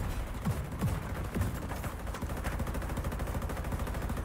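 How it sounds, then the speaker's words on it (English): Rapid, loud gunfire from a shotgun in the video game The Division 2, dense booming shots packed over a noisy, continuous battle background. "Bring out my shotgun."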